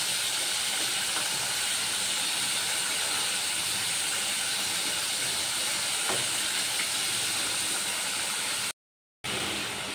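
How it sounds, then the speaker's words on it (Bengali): Fish simmering in curry gravy, a steady broadband bubbling hiss that holds evenly and close throughout, briefly cutting out near the end, with no voices. "মাছগুলো দিয়ে একটু ঝোলের সাথে ভালো করে ফুটিয়ে নেব।"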